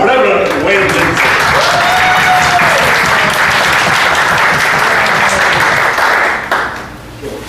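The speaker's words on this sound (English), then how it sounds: "So please, a big round of applause for Reverend Wayne Lindsey." Congregation applauding a preacher at a church service in Palm Springs, a loud, steady wash of clapping that fills the room for several seconds before tapering off, with some voices mixed in.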